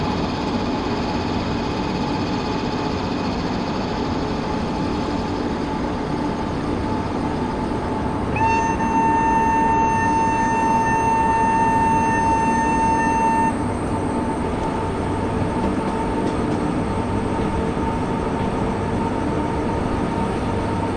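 A WAP-7 electric locomotive hauling the Sabari Express in Train Simulator rumbles steadily, with a sustained horn-like tone sounding for several seconds midway, and no talking.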